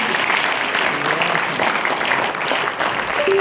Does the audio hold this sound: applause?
yes